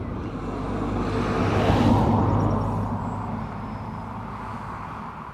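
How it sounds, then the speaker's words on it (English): A BMW car passes near a railway platform, its whoosh swelling to a peak midway and then fading away, with no talking. "You can hear a car, you can hear a BMW."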